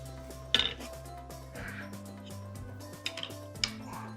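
A cooking pot is set out on a stove in a home kitchen, giving a few light metallic clinks and clunks near the start and again toward the end, with quiet gaps in between.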